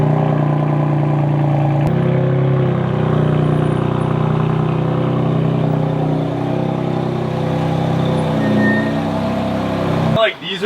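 Car engine idles and then eases along, a steady mid-pitched drone under a person talking, ending with a brief clatter.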